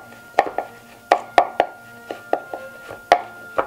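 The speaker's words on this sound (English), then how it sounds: "first thing we want to do is chop up a few shallots" A knife chops shallots on a cutting board in about a dozen crisp, close taps at an uneven rhythm, each a sharp click with a short woody knock beneath, over a faint steady hum.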